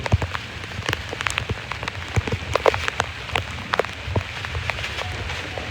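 Rain patters steadily on a nearby plastic surface, with scattered sharper drops tapping irregularly over a soft background hiss.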